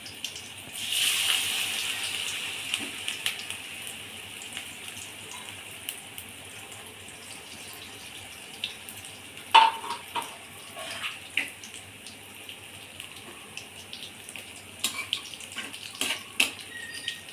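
Pui leaf chops (fried vegetable croquettes) lowered into hot oil, a continuous close sizzling hiss swelling as each piece goes in, with scattered pops and clinks over a steady bubbling bed and no talk.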